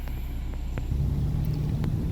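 A car being driven just after a repair, steady low engine and road rumble throughout, with the drone deepening slightly partway through.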